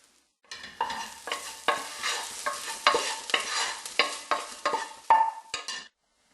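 Chilli con carne frying in a pan as chili powder and paprika are stirred in, with a steady run of scraping, clattering stirs over a soft background sizzle, close and fairly loud, with no talking.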